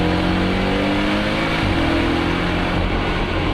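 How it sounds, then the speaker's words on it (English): A Porsche 718 Boxster accelerates hard on a cold December road at about 5 degrees, its engine a loud, steady, close roar that builds without a break and with no talk over it. "Here we are, 5 degrees in December, and the car is putting his power down perfectly."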